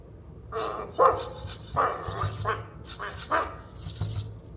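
Emo home robot imitating a dog, giving a series of short synthetic barks and yips in an uneven rhythm, fairly close and moderately loud over a quiet room.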